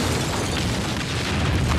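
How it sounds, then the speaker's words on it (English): A massive explosion from a Walking Dead episode roars for about two seconds, a loud, sustained low rumble with dense broadband crackle and no talking over it. "starting the whole thing with a freaking huge explosion"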